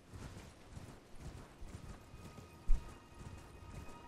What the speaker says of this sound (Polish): Teraz konia mi proszę przywołać.